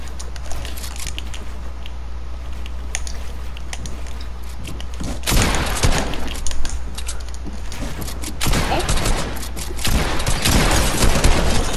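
Gunfire crackles in Fortnite, loud rapid bursts of shots in two clusters over a constant game background hum, with little talk.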